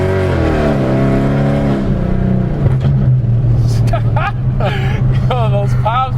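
A V8 Dodge Charger engine drones and revs, then sharp exhaust pops crackle in short bursts near the microphone while people talk over it.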